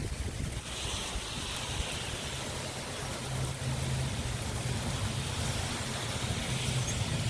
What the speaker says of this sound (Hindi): यहाँ बहुत ज़्यादा बारिश हो रही है, धूप भी है और बारिश भी